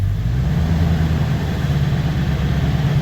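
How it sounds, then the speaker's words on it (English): A Ford 7.3L diesel in an F-series truck with a battery warning light runs steadily and loudly up close, a continuous low rumble with a slight rise in revs and no voices. "If I rev it up"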